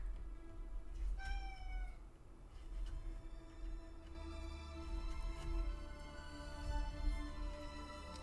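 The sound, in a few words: cat meowing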